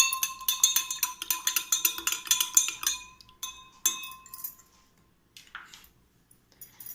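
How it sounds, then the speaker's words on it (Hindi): A utensil rapidly clinks against a glass while stirring drops of oil into water, a quick ringing run of taps that slows and stops, followed by a few scattered softer knocks and a brief scrape. "हमने ये 5th ग्लास लिया है एंड इसमें हम कुछ ऑयल के ड्रॉप मिक्स करेंगे"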